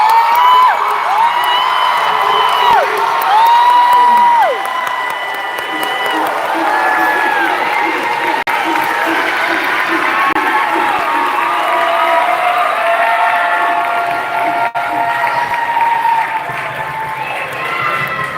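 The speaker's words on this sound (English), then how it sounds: "How about a nice loud round of applause?" Graduation crowd for the Class of 2025 bursts into loud clapping with shrill cheers and whoops, shouts rising over the applause early on before settling into a steady roar.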